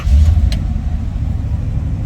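A 1968 Oldsmobile Cutlass Supreme convertible's engine rumbles close by, a deep low-pitched drone with a heavier surge at the start and then settling into a steady run.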